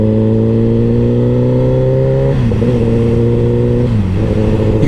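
A motorcycle engine pulls up to speed with a steady tonal drone rising in pitch, dropping briefly at two gear shifts before climbing again, loud and close.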